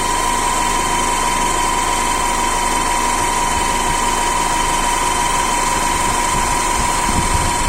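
A 3-in-1 electric car jack with built-in light and compressor runs steadily, its motor giving a continuous high whine and hum as two rods extend, close and loud without a break.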